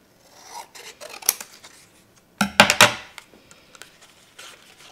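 Scissors trim a card for a shaker card, giving soft scraping snips early and then a louder cluster of crisp, close cutting sounds in a quiet room.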